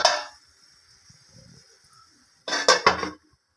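A metal lid clinks onto a pot of chicken gravy, one sharp clatter at the start and a second rattling clank of metal a couple of seconds later, close and distinct in a quiet kitchen.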